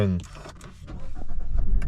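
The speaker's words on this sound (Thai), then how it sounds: "ทีนี้เดี๋ยวเราจะลองสตาร์ทรถกันดูซิ" A 2023 Mazda2 is started after a brief spoken countdown, the engine cranking and catching into a rising, rumbling idle that grows louder inside the cabin.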